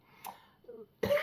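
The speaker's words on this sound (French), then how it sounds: "Excusez-moi si parfois je tousse" A woman coughs and clears her throat indoors: two short, harsh bursts about three quarters of a second apart, close to the microphone, with a softer throaty sound between them.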